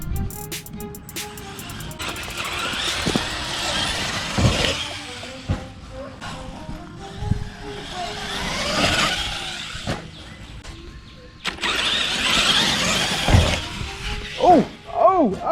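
An Axial SMT10 RC monster truck drives and jumps in bursts of high-pitched electric motor whine, with sharp clattering landings and impacts. A person talks intermittently over the action.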